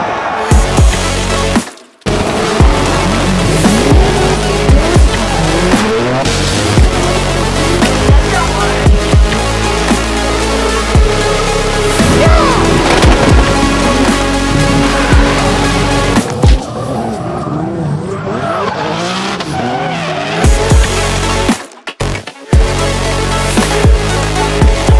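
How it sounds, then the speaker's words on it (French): A car drifting sideways on a track at a French drift championship round, engine roaring loud and close for about 25 seconds, with repeated bursts of tire squeal and skidding and a couple of brief drops in level. "C'est le drift, on commence par un dérapage"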